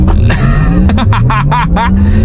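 A Porsche Taycan electric car accelerates hard in super sport mode, its rising electric motor whine climbing steadily under loud cabin rumble, with brief voice-like bursts breaking in over it.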